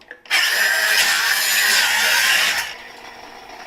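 A power tool cuts rust out of a metal body panel on an FJ45, giving one loud, harsh, high-pitched grinding burst of about two seconds at close range before it winds down.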